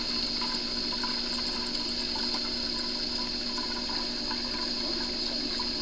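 Aquarium siphon drawing water out of a fish tank to clear pond snails, a steady continuous rushing, sucking flow with a constant hiss and no pauses, fairly loud and close.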